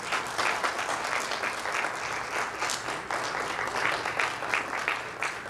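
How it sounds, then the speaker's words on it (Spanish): Audience at a Dominican sports summit breaks into continuous, fairly dense applause, steady and moderately loud with no voices over it. "Y se siente el aplauso para Luisín Mejía."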